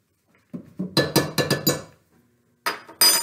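A spoon clinks and scrapes repeatedly against a bowl while play dough ingredients are stirred with oil, a quick run of sharp taps, a pause, then a few more clinks.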